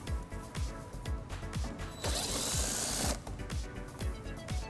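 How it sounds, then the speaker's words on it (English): Rapid ratcheting clicks from an 8mm socket ratchet backing out a screw behind a reflector on a 2018 BMW X5 bumper, a steady close series of sharp ticks with a brief hiss in the middle. "it exposes this screw that we'll remove using an 8mm socket"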